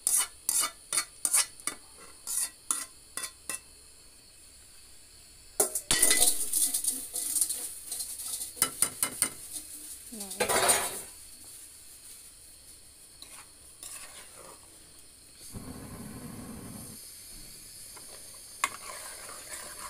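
Meat and mung dal stirred in a cooking pot, a spoon scraping in quick rhythmic strokes, then a sizzling rush partway through with more scattered scrapes and clinks after, close and with no talk.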